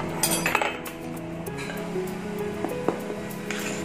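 A utensil stirs zebra sponge cake batter in a bowl, giving a steady scraping sound broken by light clinks against the bowl.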